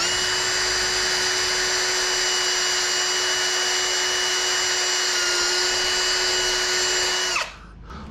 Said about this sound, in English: I need to drill.